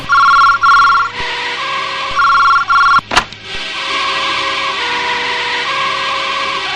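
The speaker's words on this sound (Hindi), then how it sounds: "घबराओ मत किरण, फोन उठाओ" A telephone rings in repeated electronic bursts, then a sharp clatter, followed by a steady hum and faint tone in the background.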